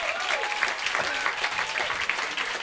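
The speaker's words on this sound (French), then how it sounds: "On peut applaudir Romain Cheval, mesdames et messieurs." Comedy club audience applauding comedian Romain Cheval, a dense steady wash of clapping with a few cheers mixed in, fairly close and sustained throughout.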